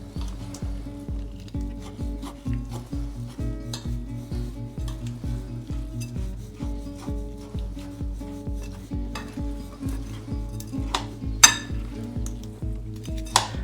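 Crushed tomato being stirred into the filling for Turkish stuffed vine leaves, giving steady rhythmic mixing and scraping in a bowl with occasional utensil clinks, close and moderately loud, with no talking.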